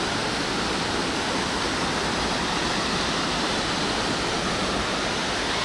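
The glacier-fed Jogini waterfall near Manali, in pine forest, roars with a steady, loud, unbroken rush of falling water, alone with no voices.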